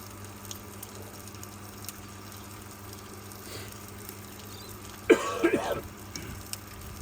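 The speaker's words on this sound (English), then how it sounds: "Forgive my coughing, I'm on the end of a lurgy." A faint background hum runs throughout, then a person with a lingering illness coughs a few times in a short burst near the end, close to the microphone.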